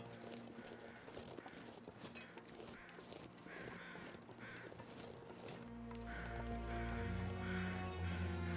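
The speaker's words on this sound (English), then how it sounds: "I hear crows over this way." Crows caw in the game The Long Dark, several harsh calls repeating at a moderate distance over the wilderness, followed by a rising low rumble of wind.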